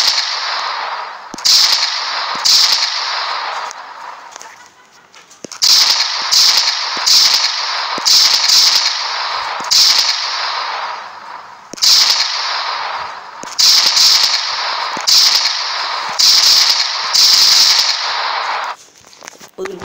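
Loud gunshots fire in quick bursts, from single sharp cracks to rapid strings, each a sharp broadband crack with pauses between groups, standing alone with no talk.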